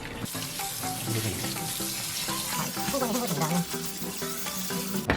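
Running tap water pours over cooked noodles in a kitchen sink, making a steady rushing splash with clattering from handling. Voices are faintly present.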